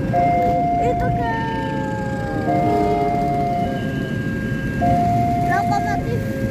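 A CC203 diesel locomotive passes while its horn sounds in long steady blasts over continuous loud rumble and road noise, with a second horn blast toward the end.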